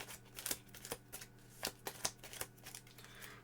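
Cards for a Star Wars board game are shuffled in a quiet, close run of crisp riffling snaps with irregular spacing over a few seconds, and nobody speaks.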